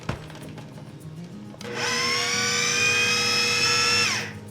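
A food processor whirs loudly as its blades cut flour into tourtière pastry dough, a steady high-pitched spin lasting about two and a half seconds before winding down, preceded by quieter clatter.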